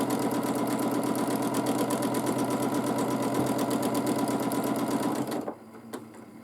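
A sewing machine stitches a free-motion quilted checkerboard pattern in a steady, fast, close mechanical whir that runs continuously and then stops abruptly near the end.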